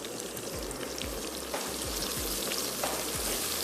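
Black cardamom, a cinnamon piece, green cardamom, cloves, bay leaf and white cumin sizzle steadily in hot oil for mutton biryani, a dense crackling hiss with soft stirring knocks, no talk.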